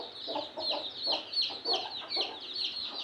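Country hens cluck continuously close by alongside their many chicks, with rapid repeated high peeping from the chicks over the hens' low, rhythmic clucks.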